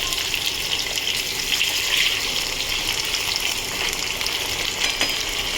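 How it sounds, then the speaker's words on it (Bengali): Potatoes fry in a pan for a simple vegetable dish, giving a steady close-up sizzle and crackle that runs without a break. Small stirring clinks cut through now and then, and no one speaks. "আলুটা ভেজে নিয়েছি"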